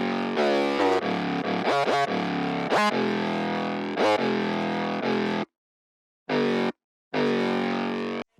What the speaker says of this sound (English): So that's what that 808 riff sounds like with both of them together.